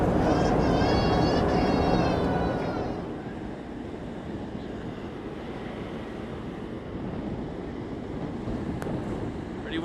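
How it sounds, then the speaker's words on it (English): Wind buffets the microphone on the deck of a ferry crossing to Prince Edward Island, a steady broadband rush with low rumble that runs throughout, with a brief voice near the start. "Pretty windy up here."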